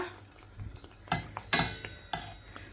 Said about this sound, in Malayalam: ഓയിൽ ചൂടായതിലേക്ക് ഓരോ ബണ്ണ് ഇട്ട് കൊടുക്കുക